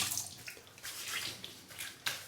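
A razor rinsed under a running tap during a shave, with a steady, close splashing water stream broken by brief bursts as the blade passes through the flow.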